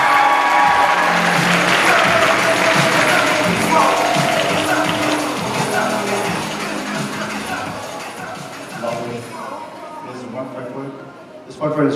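An audience at a cosplay contest applauds a contestant dressed as Pearl from Steven Universe, with loud, dense clapping that gradually thins and fades toward the end, some crowd voices mixed in.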